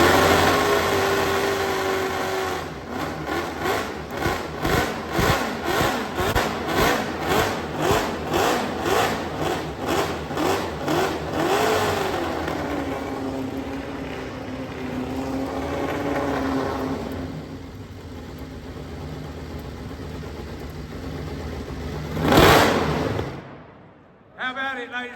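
A Norton Nemesis V8 motorcycle engine idles at the London MCN Motorcycle Show, then revs repeatedly in quick rhythmic bursts, settles into a steady rumble, gives one final sharp rev and cuts off.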